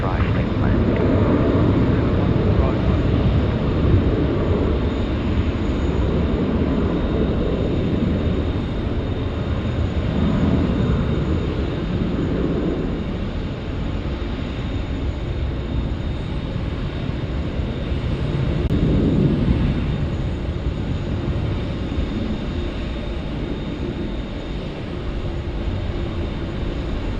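Korean Air Boeing 747 at Sydney Airport, a broad steady engine roar that swells and eases over nearly half a minute, heard from a distance with voices in the background.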